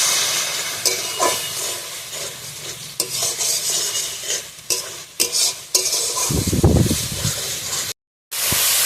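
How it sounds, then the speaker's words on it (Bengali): Spice paste stir-fried in a pan for a river mourala fish jhal chochchori, with steady scraping and sizzling of a spatula stirring, close and loud, with a brief pause near the end. "এবার আমি ভালোভাবে মশলাটা কষে নেব।"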